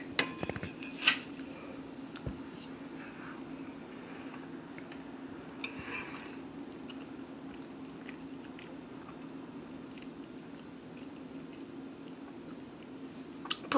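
Someone chewing a mouthful of short rib chili topped with cheese, soft squishy mastication sounds close to the mic, faint and intermittent with a few sharper clicks.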